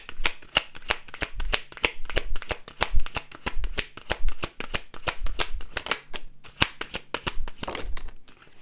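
Tarot cards being shuffled close up, a long run of quick crisp riffling bursts with brief pauses between them, loud and without talk.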